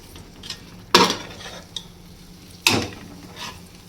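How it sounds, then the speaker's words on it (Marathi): Ground masala paste being sautéed in oil in a pan for a mixed winter vegetable dish, with two distinct scraping stirs of a spoon against the pan and soft clinks in between, close by with no talk. "वाटणाला चांगले तेल सुटस तोपर्यंत आपण हे छान परतून घेऊयात."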